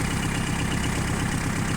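A minitractor engine idles steadily with a low, even rumble and no change in pace, close by and alone.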